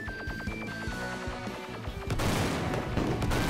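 Automatic gunfire from the Xbox Series X shooter Dogfight A Sausage Bomber Story: a loud, dense run of rapid shots that swells into a continuous noisy barrage over the game's tonal music and effects, with no voices.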